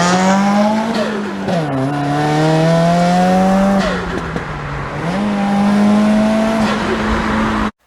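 Subaru WRX engine fitted with a Mishimoto intake and a boom buff bypass valve, revving loud and close with steady harmonic tones rising and dipping through several throttle swells, plus brief whooshing turbo bursts between pulls.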